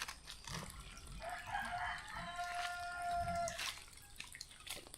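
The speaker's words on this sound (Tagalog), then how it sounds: "may manok pa dun oh" A rooster crows somewhere off at a distance during an outdoor walk, its drawn-out call rising and holding for about two seconds over faint dripping water and ambient noise.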